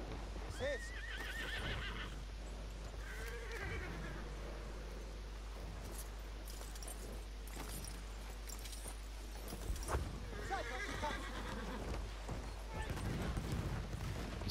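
Horses whinny and neigh loudly in a video game, with hoof clip-clops and scattered gunfire under near-constant talking, two strong neighs standing out early and again near the middle.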